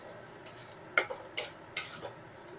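Kharkol leaf paste frying in a pan while being stirred, with four distinct scraping clinks of a utensil against the pan over a low background sizzle, fairly close.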